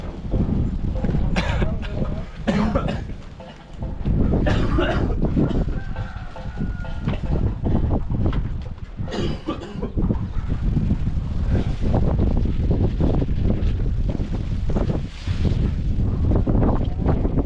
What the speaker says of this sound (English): It's a bit windy today.